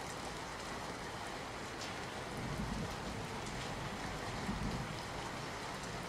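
Heavy downpour over Ahmedabad city streets, a steady dense hiss of rain hitting surfaces that swells slightly midway, continuous and fairly close with no voices.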